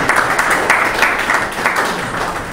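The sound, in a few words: audience applause for the writer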